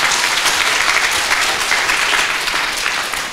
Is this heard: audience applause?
yes